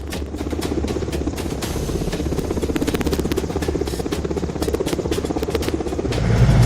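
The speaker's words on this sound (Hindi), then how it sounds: "विधानसभा की बिल्डिंग के ठीक ऊपर यह हेलीकॉप्टर मंडरा रहा है" A large Mi-17 helicopter hovers close over a legislative assembly building, its rapid rotor thumping pulsing steadily with a loud engine roar that swells near the end.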